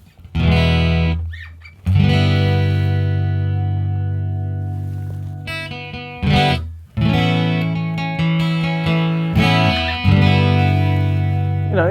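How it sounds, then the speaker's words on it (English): Electric guitar played through a Line 6 POD amp modeler with chorus effect, distorted sustained chords and notes ringing out and decaying, struck several times with short gaps, loud and close with no talking. "let's say, the chorus"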